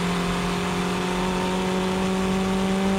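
A Nissan S14 drift car held on the brakes while entering a corner gives a steady, loud engine drone with strong sustained tones and tire noise, unbroken for the whole stretch.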